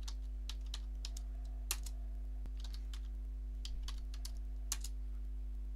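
Light, quick keystrokes tap out a command on a computer keyboard in a short, uneven burst of clicks with brief pauses, quiet over a steady electrical hum.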